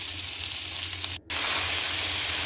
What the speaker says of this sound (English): I'm just starting to ground up my Italian sausage